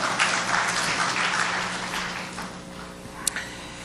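Applause from a lecture audience at a 2008 anniversary talk on the 10.4 inter-Korean summit declaration, a dense wash of many hands that swells at first and slowly thins toward the end.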